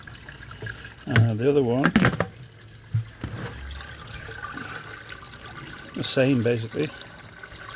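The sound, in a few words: water running through a filter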